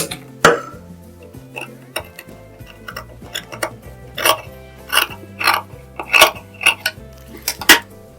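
Scissors snip extra fabric from a blouse sleeve, giving a series of sharp, close clicks and crisp cuts at an irregular pace, over a quiet steady background hum.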